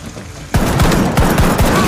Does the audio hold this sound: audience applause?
no